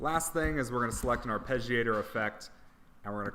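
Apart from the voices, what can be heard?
No distinct noise like a dog, phone or traffic.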